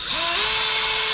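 A power drill runs steadily while boring a hole during maintenance work on a John Deere, with a loud continuous whine holding a sustained rising tone close by, no talk over it.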